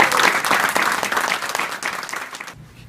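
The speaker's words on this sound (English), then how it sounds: "receive recognition from all present as we once again applaud your hard work" An audience at a 2014 National Honor Society induction ceremony applauds the inductees with dense, steady clapping that fills the room for a few seconds, then stops abruptly.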